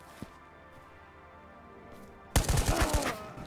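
A rapid burst of gunfire rings out in the VR shooter Ghosts of Tabor, several loud close shots in quick succession after a quiet stretch.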